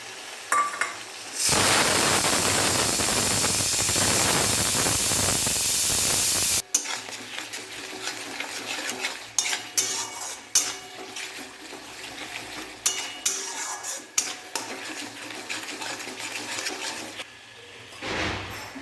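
A tomato and ground cumin spice mixture is stirred in a pan with a spatula. A loud burst of hissing sizzle comes as water is added, then scraping and stirring clatters sound in irregular bursts, close up, with no one talking.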